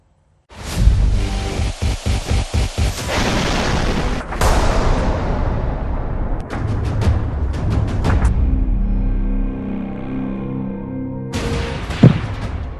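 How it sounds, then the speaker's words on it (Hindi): A series of loud, heavy blasts from bombing in Kyiv, with rumbling and debris-like crackle, followed by sustained low roaring and further booms, with a sharp bang near the end. "एक और बहुत बड़ा धमाका हुआ है"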